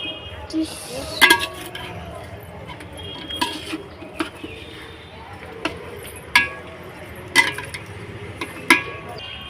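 Utensil scrapes and clinks against a pot while vegetables are stirred with spices, a Bengali home-kitchen dish cooked for Saraswati Puja; sharp metallic taps recur at irregular intervals over a steady low background.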